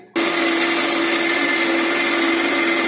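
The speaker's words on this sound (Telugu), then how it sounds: "మిక్సీలో గ్రైండింగ్ అవుతుంది" A kitchen mixer grinder starts up and runs at full speed, grinding ginger and garlic into paste with salt and a little water, a loud, steady, close whirring drone.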